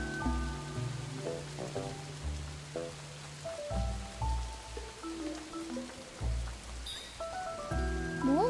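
Steady soft rainfall in Snufkin: Melody of Moominvalley, a faint continuous patter under gentle melodic game music with sustained notes.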